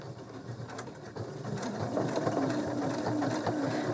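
A sewing machine does free motion stitching around a Christmas pudding design, a continuous close whirring hum that grows slightly louder as it runs, with faint fabric shuffling.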